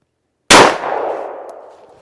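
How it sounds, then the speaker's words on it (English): A single sharp 9mm shot from a Glock 19 pistol firing Hornady 124 grain XTP standard-pressure ammunition, loud and close after a moment of silence, followed by a long fading outdoor echo. "first up, the Hornady 124 XTP, standard pressure out of the Glock 19"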